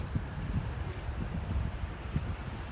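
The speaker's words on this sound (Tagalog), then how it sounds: "Ang lamig. Ang lakas kasi ng hangin." Steady wind roars and buffets a microphone in low gusts, continuous and fairly loud with no voices, on a cold seaside corniche.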